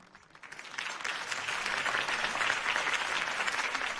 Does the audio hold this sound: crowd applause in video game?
yes